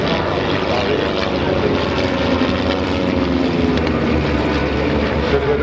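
A light propeller aircraft flies over at the Air Legend 2021 air show, its engine a loud, steady droning roar that holds throughout.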